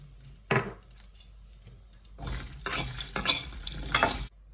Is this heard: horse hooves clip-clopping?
no